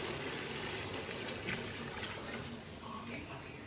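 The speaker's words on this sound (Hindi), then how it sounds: "तो अब हम डालते हैं पानी।" Water poured into a pot for cooking rice makes a soft, steady splashing fill for several seconds, heard close but quiet, with a voice faintly under it.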